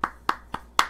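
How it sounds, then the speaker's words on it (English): Four separate hand claps, close and distinct, spaced evenly at a moderate pace with brief quiet gaps between them. "Round of applause."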